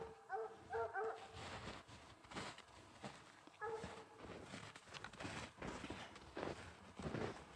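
Hunting dogs tracking a bobcat in the British Columbia woods, giving distant, faint barks and whimpering yips in scattered bursts over rustling movement outdoors.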